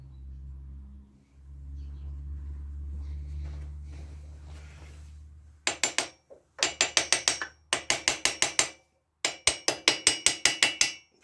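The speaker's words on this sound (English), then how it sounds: "I've got a little engineering hammer I use this because the rubber ones don't always tap it well enough." A small engineering hammer taps a Kawasaki Z1 900 engine part during engine removal, rapid clusters of sharp metallic knocks in several quick bursts after a low hum, close and clear.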